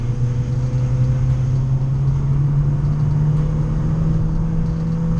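A Vauxhall Corsa fitted with a Cobra Sport exhaust pulls hard in first gear, its loud droning engine and exhaust note rising steadily in pitch up close throughout.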